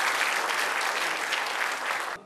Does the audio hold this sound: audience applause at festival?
yes